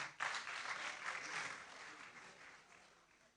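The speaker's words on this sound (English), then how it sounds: "Let's welcome him with a round of applause." A hall audience at a university inaugural lecture bursts into applause that starts abruptly, stays strong for a moment, then thins and fades gradually toward quiet; faint and somewhat distant overall.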